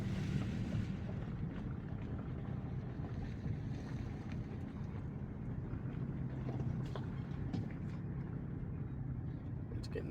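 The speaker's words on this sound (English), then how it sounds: "Getting a little bit more windy." Wind blows steadily outdoors under a cloudy, darkening sky, a continuous broadband rush with low buffeting against the microphone that holds at an even level throughout.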